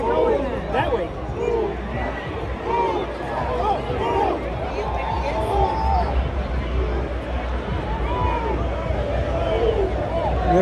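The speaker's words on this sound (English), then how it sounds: "They're pushing the crowd, and it looks like it's gonna get a little rowdy." Rowdy crowd on a New York street being pushed back by police after a Knicks NBA Finals loss: dense babble of many voices and shouts, close and continuous, with excited chatter rising and falling throughout.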